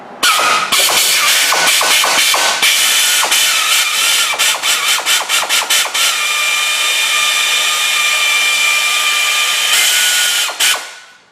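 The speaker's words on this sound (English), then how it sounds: "Air ratchets do not like swivels, just FYI." An air ratchet fitted with a swivel runs in loud, close bursts on the front suspension bolts of a Ford F-250, first in rapid stuttering pulses, then a long continuous whir before cutting off.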